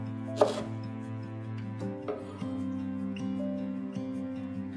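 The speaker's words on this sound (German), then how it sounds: "Bärlauch in der Mitte einmal durchschneiden." One firm knife cut through wild garlic lands on a cutting board, followed by a couple of faint taps, with soft background music playing throughout.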